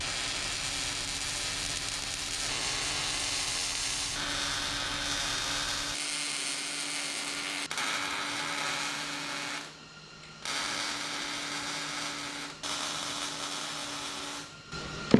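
Welding on a Chevrolet C-10 Loadstar truck build in a shop, a continuous buzzing hiss from the welder lasting several seconds with brief breaks between beads, steady and fairly close, no voices.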